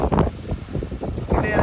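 Strong wind buffeting the microphone at a beach, a loud continuous rumbling roar with gusts, mixed with voices talking over it.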